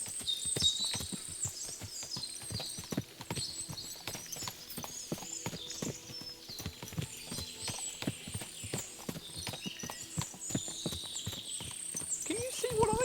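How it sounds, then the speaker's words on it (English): Many horses clip-clop in the medieval role-playing game Kingdom Come: Deliverance II, a busy stream of sharp hoof strikes at uneven rhythm with a faint snort or whinny mixed in, fairly close and steady throughout. "Can you see what I see? Fuck! What a lot of horses!"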